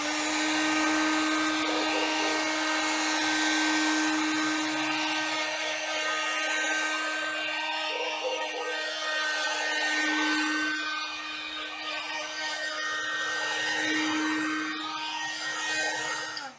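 A hair dryer blows steadily on the painted cloth of a mandala, a loud, continuous close whine and rush of air with slight shifts in pitch and level for the whole stretch.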